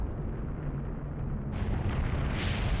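A lava eruption in Zelda: The Wind Waker HD's Dragon Roost Cavern, a steady rumbling roar that swells and brightens near the end, as if launching the player upward.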